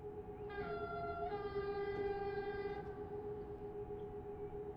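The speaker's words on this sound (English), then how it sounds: "These trains take so long to get out of the stations." A TGV Duplex high-speed train pulls out of a station in the Transport Fever 2 video game, giving a steady sustained tonal hum with a brief layered whine mid-way, moderately loud and continuous with no talk.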